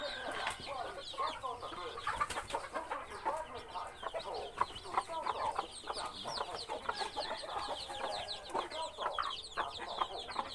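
A flock of fighting-cock roosters and hens clucks steadily and densely, many overlapping calls from close by forming a continuous busy chatter.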